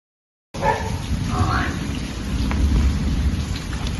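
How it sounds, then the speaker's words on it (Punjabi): After a brief silence, heavy monsoon rain starts pouring with a loud, steady roar on a Punjab farm, and low rumbles of thunder roll beneath it. "ਦੇਖੋ ਜੀ ਆਪਣੇ ਕਿੰਨਾ ਮੀਂਹ ਪੈ ਗਿਆ"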